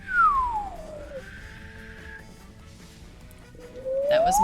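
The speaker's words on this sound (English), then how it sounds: "I will whistle for you" A person whistles alone, a bright sliding tone that falls, holds a steady pitch, then rises again in a long swooping pattern, fairly clear against a quiet background.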